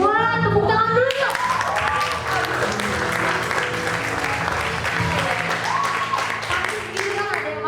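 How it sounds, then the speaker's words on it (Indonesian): A Christmas event audience at a high school applauds with a steady burst of clapping that runs across the whole stretch, mixed with background music and some voices. "Wah, tepuk tangan dulu yuk."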